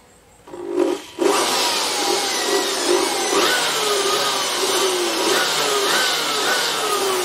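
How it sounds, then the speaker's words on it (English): An air blower roars steadily as it blasts dust out of a laptop, starting after a short click and whir, then holding a loud, continuous whoosh with slight wavering pitch throughout. "let's get the blower and see how we can blow this off"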